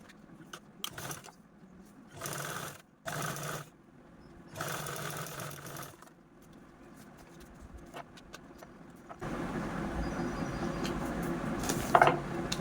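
A sewing machine stitches double-folded fabric for a cloth eyeglass stand, running in several short whirring bursts with pauses, then one longer steady stitching run near the end.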